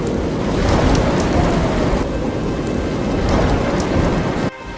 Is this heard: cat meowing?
no